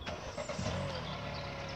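A yellow Mini car's engine near a level crossing, a brief steady mid-pitched hum with a faint tonal whine, moderately close, with no voices.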